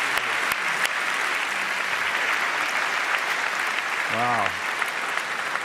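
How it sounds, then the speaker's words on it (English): Loud, sustained audience applause fills a debate hall, dense clapping throughout with a brief exclamation from someone partway through. "Big round of applause"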